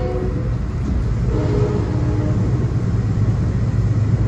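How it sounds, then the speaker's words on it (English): An express New Haven train rushes past the Darien station platform, a loud, steady rumble and roar of rail cars filling the whole stretch, with no talk over it. "That was an express New Haven train"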